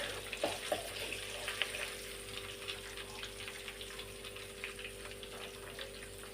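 Dried red chillies fry in hot oil for a tomato pickle, giving a soft, steady sizzle with light crackles and a few stirring taps near the start, and no talking.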